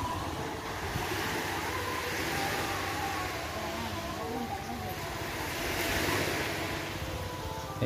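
Waves on a beach at Pulau Panjang at midday, with coconut harvesting nearby and the tide low: a steady, broad wash of surf and wind, moderately faint and continuous.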